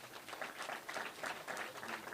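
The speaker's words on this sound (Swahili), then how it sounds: "MCA wa Nyandarua County, wapigieni makofi." Crowd applause for Nyandarua County MCAs at a political rally in Ol Kalou, a steady wash of many hands clapping in pulses, moderately distant and fairly faint, with no voices over it.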